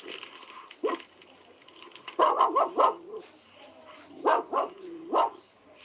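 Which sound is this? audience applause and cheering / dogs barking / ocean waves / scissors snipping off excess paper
dogs barking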